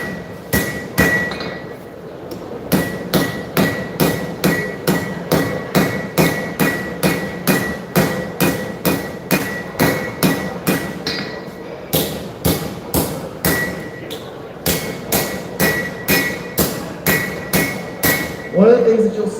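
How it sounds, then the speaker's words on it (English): Steady rhythmic hammer blows ring on hot steel at a knife-forging demonstration, dozens of sharp metallic strikes in a fast even cadence with brief pauses, close and loud. "my hammer is hammering in one spot. I'm moving the steel the whole entire time"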